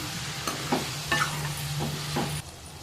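Okra and tomato curry being stirred in a pan after coriander powder and garam masala go in, a steady low sizzle with a few soft spoon scrapes close by, no talking.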